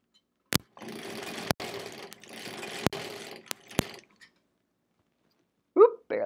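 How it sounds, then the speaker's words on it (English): A sewing machine stitches a quilt block to a strip in steady bursts of close, busy mechanical whirring, broken by sharp clicks and brief pauses, with a short voice sound near the end. "Let's just grab that other one right away and sew it to a strip."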